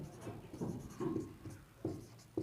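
Marker or chalk writing on a board during a maths lesson on linear equations, short scratchy strokes in uneven bursts, close and quiet with small gaps between marks.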